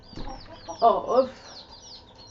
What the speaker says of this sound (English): This is one of our silky hens.